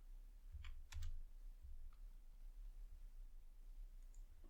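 Quiet typing on a computer keyboard while entering code, a few soft, sparse clicks over a low hum in a hushed room.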